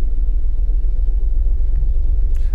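Engine of a vehicle driving in the video game Unturned, a heavy steady low rumble that stays loud and even throughout, with no other sounds.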